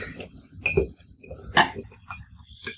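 A spoon stirs salt into water in a glass, giving a few light clinks against the glass spread over a few seconds, close and fairly quiet.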